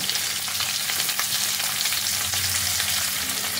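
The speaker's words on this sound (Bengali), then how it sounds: "এবার এটাকে তেলের মধ্যে ভালো করে ভেজে নিতে হবে।" Chopped onions, two medium ones, sizzle steadily in hot oil in a pan, a dense continuous crackling hiss with no talking.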